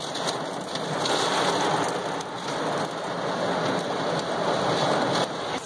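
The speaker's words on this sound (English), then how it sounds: "So, right now we're sitting in the storm." Heavy rain pouring steadily during a storm with a tornado nearby, a dense continuous hiss of drops on surfaces, loud and close, with no talk.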